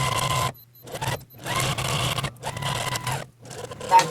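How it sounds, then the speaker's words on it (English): A sewing machine runs a back stitch while piecing a large half-square-triangle quilt block, sounding in several short, close whirring bursts separated by brief pauses. "And I'm going to start with a back stitch."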